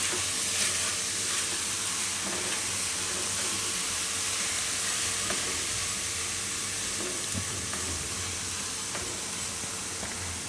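Fresh mint leaves being stirred in a hot pan for pudina pasta, a steady sizzle and hiss running throughout with faint scraping, no voices.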